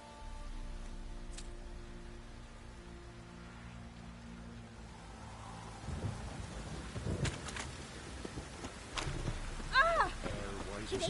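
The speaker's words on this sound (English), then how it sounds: "Oh, it's drizzling." Rain and rumbling thunder in The Witcher 3 open world, a low steady storm bed with louder crackling bursts building in the second half, under game dialogue and a bird's cry.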